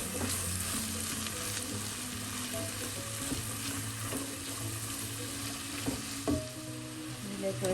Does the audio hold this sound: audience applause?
no